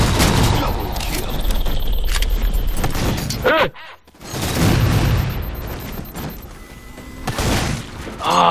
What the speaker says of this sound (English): Oh, they have a shotgun.